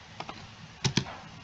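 Computer keyboard keys are pressed in a quick copy-and-paste sequence, two soft taps followed by two sharper, louder clicks close by, with no voice.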